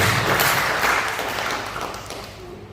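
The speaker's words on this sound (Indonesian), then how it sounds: "Beri tepuk tangan dulu yang baik buat Tuhan kita." A church congregation at a Sunday service claps for God, a loud steady wash of applause that slowly fades toward the end.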